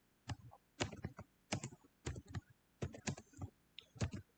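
Code being typed on a computer keyboard in quick clustered bursts of crisp key clicks separated by short pauses, close and isolated in a quiet room.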